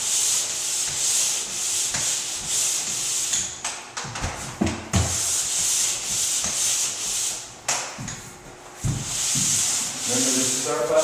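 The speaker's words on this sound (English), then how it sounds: "120 grit sandpaper we can run on here like this" A power sander with 120-grit paper works over a drywall butt joint, a steady abrasive hiss that breaks off briefly several times with soft handling knocks before resuming.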